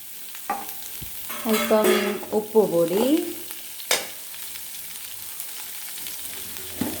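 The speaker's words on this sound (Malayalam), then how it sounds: "ഉപ്പുപൊടിയും കൂടെ ചേർത്ത് നന്നായിട്ട് നമുക്ക് ഇളക്കിയെടുക്കാം." Beans being stirred with chopped onion, coconut pieces and spices such as turmeric in a pan, giving scraping strokes and a soft sizzle. Someone speaks briefly over the first stirs, then the stirring continues with light clatter.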